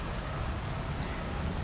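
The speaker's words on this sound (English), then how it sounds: "it's still raining and I'm under the umbrella." Heavy monsoon rain in the Western Ghats drums steadily on an umbrella overhead, a dense, close, unbroken patter with no voices.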